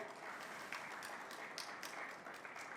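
Audience applause at an MMA Impact India 2022 industry event, a steady, faint wash of many hands clapping that continues for the whole stretch without voices.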